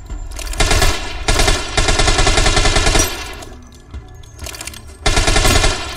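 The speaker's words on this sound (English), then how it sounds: "I'm just wasting so many bullets." Rapid automatic gunfire from a video game comes in several loud, close bursts separated by short pauses, with each burst a dense stream of shots.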